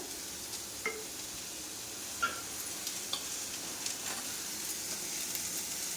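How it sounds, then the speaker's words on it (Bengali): Soybean chunks fry gently in oil with cumin seeds and dried red chilli, giving a soft continuous sizzle with faint stirring clicks, steady and close, with no talking. "এটাও জিরে শুকনো লঙ্কার মধ্যে একটু ভেজে নিলাম সোয়াবিনটা"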